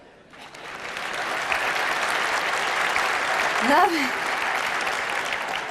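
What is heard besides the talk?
audience applause at comedy show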